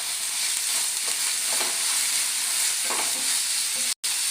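Two finely sliced onions sauté with green chillies in a pan, a steady close sizzle broken by a few soft stirring scrapes and a brief cut near the end.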